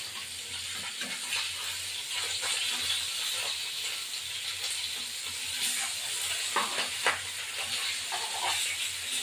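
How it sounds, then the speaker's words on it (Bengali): Tilapia fish fry in hot oil in a pan with a steady, close sizzle and hiss, broken by a few louder crackles and scrapes as the pieces are turned. "এবার মাছটাকে একে একে উল্টাবো।"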